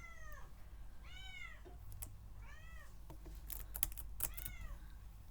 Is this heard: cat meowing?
yes